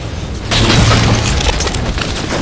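A plasma grenade blows up in a Halo match, a single deep boom that rises sharply and fades into a rumbling tail, loud and close.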